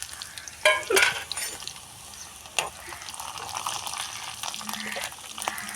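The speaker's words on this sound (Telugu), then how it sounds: "ఇది కాలింపు వేసుకుంటున్నామండి శనగపప్పు మినపప్పు మెంతులు జీలకర్ర ఆవాలు ఎండుమిరగాయలండి" Chana dal, urad dal, fenugreek, cumin, mustard seeds and dried chillies are tempered in hot oil for a buttermilk curry, crackling and sputtering with a few sharp pops early, then a quieter sizzle.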